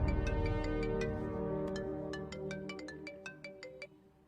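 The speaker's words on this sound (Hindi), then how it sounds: "बिम्बी, तुम्हारे लिए कॉल है।" A melodic electronic ringtone plays nearby, a repeating chime-like tune that gradually fades, with no talking.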